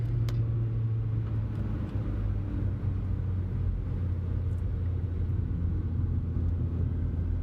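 A turbocharged car climbs uphill on road 226A, its engine a steady, loud, low rumble with constant road noise throughout and no talk.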